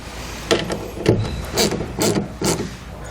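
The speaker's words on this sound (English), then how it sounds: "then we'll tighten them down with a 7/16 wrench or socket" Bolts on a 2009 Jeep Wrangler tailgate rack bracket are tightened with a 7/16 wrench or socket, giving five or six close, evenly spaced ratcheting clicks and metallic knocks.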